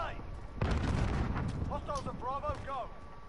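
Video game gunfire booms in a first-person shooter match, a heavy shot followed by a rumbling roll-off, with voices talking over it.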